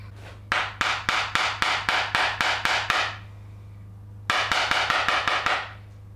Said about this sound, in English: can I pound it in that last bit and get a snug fit